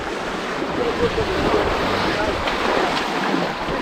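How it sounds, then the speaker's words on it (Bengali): A fast-flowing hill stream at Muppochora Waterfall, Belaichhari, Rangamati rushes in a continuous, broad roar close by, with wind noise and a voice talking over it. "এই হচ্ছে ঝিরি, ঝিরিতে প্রচুর স্রোত।"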